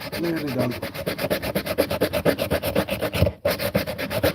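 Hand sanding of wood with sandpaper, likely coarse 60-grit, outdoors in a bushcraft setting; a steady rhythmic rasping stroke repeats close to the microphone, with one brief pause near the end.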